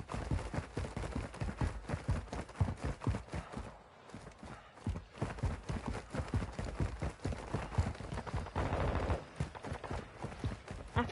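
Rapid pistol fire in Call of Duty Modern Warfare 2, a dense run of sharp close shots in quick succession with a brief pause partway through, no talking over it.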